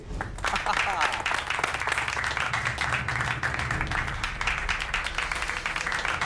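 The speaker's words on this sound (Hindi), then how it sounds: "ठोको ताली।" Applause fills a room at a celebration in a Hindi television drama, a steady wash of clapping that holds at one level throughout, with voices mixed in.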